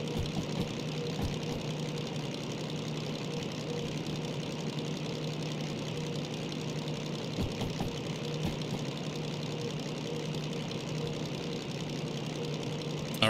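A DM3 diesel locomotive engine in the Derail Valley train game runs at about 800 RPM, giving a steady mechanical drone with a constant low hum and faint knocking, unbroken throughout.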